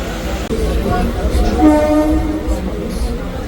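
A passenger train pulls slowly out of a station, a loud, close rumble of rolling wagons with a tonal horn-like whine rising in the middle, steady throughout with faint voices around.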